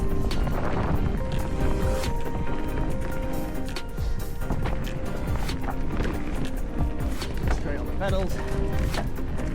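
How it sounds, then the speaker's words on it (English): Wind gusts roar across the microphone while mountain biking on forest tracks in Dalby Forest, with the rattle of the bike underneath and a rider speaking briefly over it. "Wind definitely picking up."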